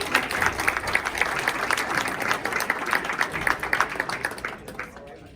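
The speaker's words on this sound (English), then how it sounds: "Give a nice round of applause." Audience applause at a Hall of Fame induction ceremony in Eastern Iowa, a fairly quiet, distant round of clapping that swells and then thins out before stopping.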